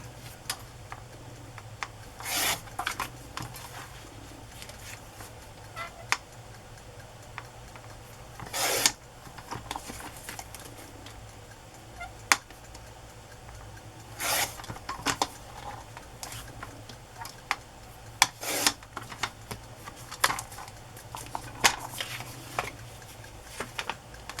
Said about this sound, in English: I'm just going to trim it so it's a nice even edge all around.